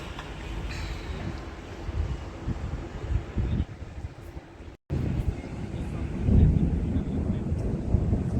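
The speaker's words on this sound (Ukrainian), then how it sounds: "Почорніли, гримить, там, мабуть, злива." Low, rolling rumble of distant thunder from dark mountains ahead of a downpour, swelling and fading across the clip, with a brief dropout midway and a louder surge near the end.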